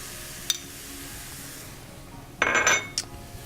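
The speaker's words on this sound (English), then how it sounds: "And then just stir it." A utensil scrapes and clinks against a pan as crab meat is folded into a cooking mixture, with one sharp tap followed by a brief clattering burst over a quiet kitchen background.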